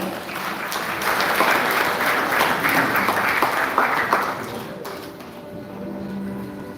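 Sustained audience applause at a Friday-night Hare Krishna Namahatta gathering on the last night of Kartik, a dense crowd of clapping that holds steady and then thins out toward the end.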